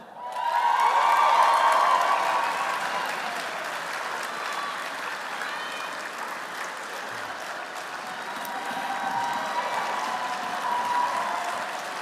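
Enthusiastic crowd applause at the closing ceremony of a Tokelau Easter festival swells quickly and keeps going as a dense, steady clatter of many hands for the full twelve seconds, with scattered cheers mixed in and no speech over it.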